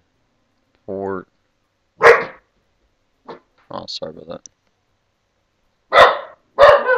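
Dogs bark in short loud bursts, with a yelp near the start and two more sharp barks near the end, while a person speaks briefly between them.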